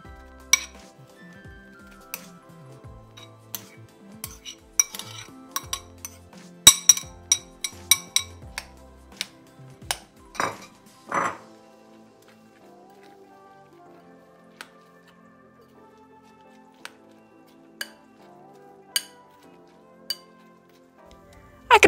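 Batter with apples being mixed in a bowl for an apple-and-egg cake, heard as scattered clinks and scraping taps of a utensil against the bowl, busy at first and then sparse, close and fairly quiet.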